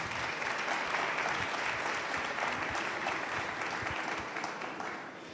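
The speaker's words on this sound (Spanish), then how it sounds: "un aplauso bien especial" Steady applause from an audience at a formal conclusions session, sustained dense clapping throughout that slowly tapers near the end, with no talk over it.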